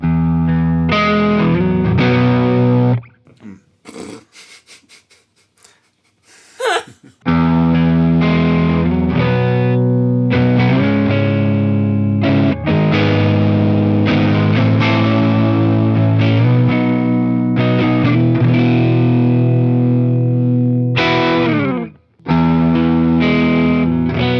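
Distorted chords from an Eastman T386 semi-hollow guitar on the neck pickup ring out through a Helix amp simulator set to a Mesa Boogie Mark IV, loud and sustained with a brief quieter muted passage partway through.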